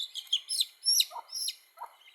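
A day-old desi chicken chick cheeps in short, high, sharp peeps, about half a dozen in quick irregular succession, close and clear against silence.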